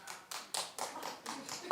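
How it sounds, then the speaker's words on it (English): A studio audience at a daytime television talk show claps in short bursts, about six separated rounds of scattered, moderately faint hand claps with brief gaps between them. "Clap if you're in the audience and you've heard of A Zillion."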